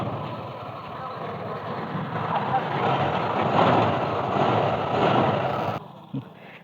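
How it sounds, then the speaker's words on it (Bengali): A motorbike engine idles steadily right after an oil change, a constant close, rumbling drone that holds for about six seconds before dropping away abruptly. "বাইকটাকে কিছুক্ষণ স্টার্ট দিয়ে রাখি যাতে নতুন মোবিলটা পুরো ইঞ্জিনে উঠে যায়"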